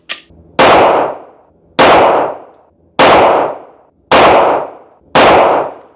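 Five loud pistol shots from a Springfield Hellcat Pro fitted with a Holosun sight, fired at a slow, even pace roughly a second apart, each a sharp crack with a short ringing decay outdoors, no talk.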